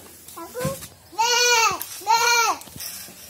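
A little girl imitates a goat, giving two long, wavering bleats back to back after a short spoken lead-in, close and loud.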